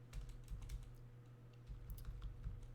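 Keystrokes on a computer keyboard during a woodworking joinery session, a steady run of light taps clustered in short bursts, close and fairly quiet over a low background hum.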